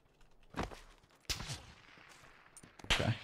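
Several separate gunshots in PUBG, three distinct sharp cracks spaced about a second apart with quieter echoing tails, fairly faint and distant-sounding against a quiet background.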